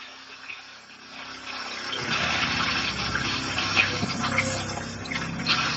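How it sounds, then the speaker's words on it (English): A vintage cruiser's freshwater system pump flushes antifreeze and trapped air out through the lines: a steady, rushing, gurgling water noise that swells in after a quieter start and runs on continuously, fairly close. "So now what we want to do is flush out the antifreeze and, in my case, the air."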